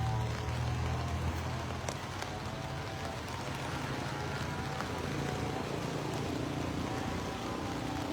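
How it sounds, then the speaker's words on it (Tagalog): Steady rain patters in a dense, even hiss from start to finish at the San Isidro bridge over the Pampanga River, with no talking. "Umuulan na po dito sa bayan ng San Isidro."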